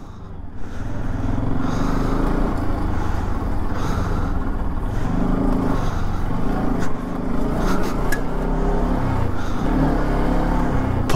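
Vehicles idle and creep in a traffic jam on the mountain road to Badrinath, a dense steady rumble of engines with occasional revving and horn-like tones, close and continuous.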